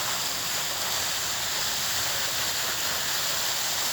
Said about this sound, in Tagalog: There's so many water in this highway.